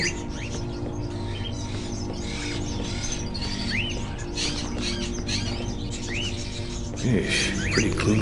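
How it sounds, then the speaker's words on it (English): Caged crows in a gloomy old house in the video game Fahrenheit give faint, scattered calls over a steady, droning ambient background. "Are those crows in the cages?"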